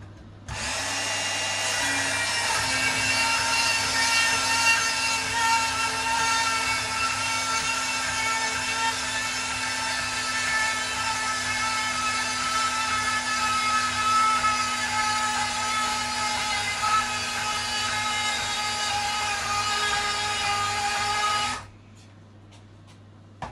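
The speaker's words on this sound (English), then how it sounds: "Sound you probably should be hearing in the background is me changing the blade on my bandsaw." Steady, loud whirring of a bandsaw running in a gunsmithing workshop, a continuous mechanical drone with a sustained hum that holds for about twenty seconds before cutting off abruptly.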